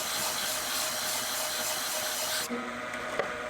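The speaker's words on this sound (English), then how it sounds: "I probably have my dust collector going right now." Woodshop dust collector running steadily as a broad, even rushing hiss that cuts off abruptly near the end, leaving a quieter room with a faint tap.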